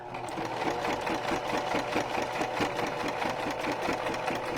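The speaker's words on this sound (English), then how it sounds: "Make sure you don't sew your ribbon on this side." A sewing machine stitches ribbon onto a cardboard journal cover, its needle pounding in a steady rapid rhythm, close and fairly loud, running continuously throughout.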